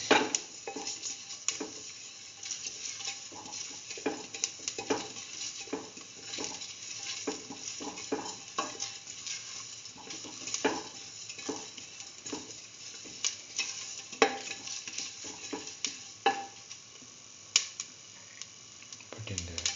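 Mustard chicken rice with red chili pieces and salt being stirred in a pan, a steady scraping and clinking with soft sizzling underneath and frequent small utensil taps throughout.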